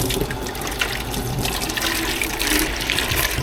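Water runs hard from a tap while a bucket used for horse feed is rinsed out, a loud, steady, close splashing rush that continues throughout.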